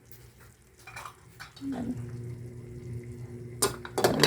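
Fish hits hot oil in a pan and starts to sizzle, with clinking utensils and a pot scraping nearby, close up and fairly quiet.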